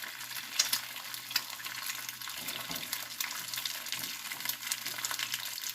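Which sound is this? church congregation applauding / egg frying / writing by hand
egg frying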